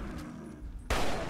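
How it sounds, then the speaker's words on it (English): A single gunshot in Fallout 3 bursts out suddenly after a stretch of low background game noise, a loud, broad crack that lingers with a rough tail. "I missed that first shot."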